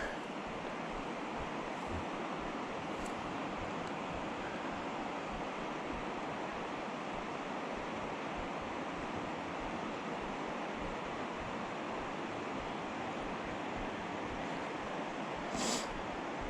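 The South Holston River rushes in a steady, broadband wash of flowing water, constant and fairly loud from start to finish with no voices.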